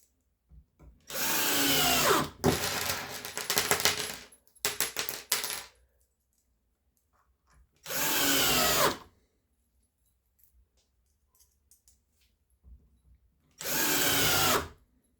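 A cordless drill drives screws into old pine wood in three separate bursts, each loud and close, with motor whine and the bite of the screw, divided by quiet pauses and a few small clicks.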